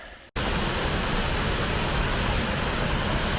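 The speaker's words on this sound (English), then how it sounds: "Plas Power Waterfalls in Plas Woods, Nant Mill." Plas Power Waterfalls in Plas Woods at Nant Mill give off a loud, steady, full rushing roar that starts abruptly after a brief quieter moment and carries on unbroken.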